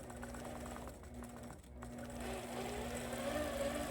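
A sewing machine stitches a feather quilting pattern, a steady fast mechanical hum and rattle running continuously with a brief pause midway, close and moderately quiet.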